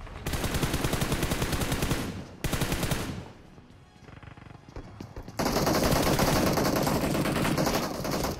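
Rapid automatic gunfire in a mobile battle royale shooter game: long, loud bursts of dense shots, a short pause and quieter patch in the middle, then another sustained burst to the end.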